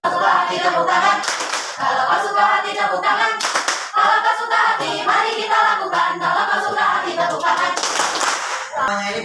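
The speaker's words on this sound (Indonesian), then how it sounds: "Tepuk tangan." A group of children claps in rhythm to a sung action song, steady hand claps running through loud singing voices for the whole stretch.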